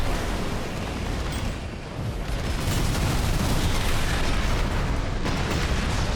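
Continuous loud explosions and weapon impacts from Songbird launchers in the mech combat game Armored Core VI, a dense, unbroken roar of blasts and booms with no pauses and no voices.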